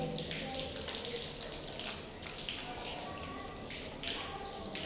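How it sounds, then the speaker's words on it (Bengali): Water pours and splashes steadily as a right foot and ankle are washed during wudu, a continuous close running-tap sound with shifting splashes and no clear talk. "এই যে আমি ডান পায়ের টাকনু সহ 3 বার ধুইছি"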